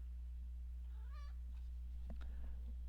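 One short cat meow rises and falls, followed by a few soft thumps and rustles over a constant low hum, during Football Manager 2014 gameplay.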